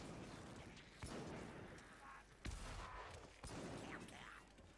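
Guns firing at Skaven enemies in Warhammer: End Times - Vermintide: a few heavy, booming shots with rumbling, chaotic combat noise around them, moderately loud, with no clear speech.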